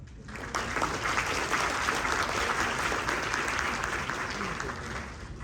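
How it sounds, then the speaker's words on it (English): Loud, full audience applause fills a hall at the opening of a course closing ceremony, starting abruptly and continuing as a dense, even roar of many hands clapping. "Please give a big round of applause."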